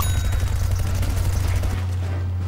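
Rapid gunfire aimed at the player in the shooter game Plants vs. Zombies Garden Warfare 2, a loud, dense burst of automatic shots over a low hum that stops abruptly near the end.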